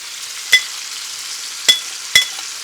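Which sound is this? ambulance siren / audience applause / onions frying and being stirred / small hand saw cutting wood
onions frying and being stirred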